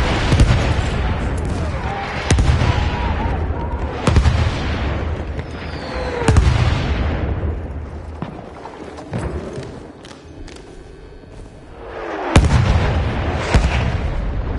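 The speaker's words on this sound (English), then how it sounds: "Wait for the enemy artillery barrage to stop firing." Artillery barrage in the video game Battlefield 1: repeated heavy booms and thuds, loud and close, roll through constant battlefield rumble and scattered gunfire, easing briefly before another blast hits.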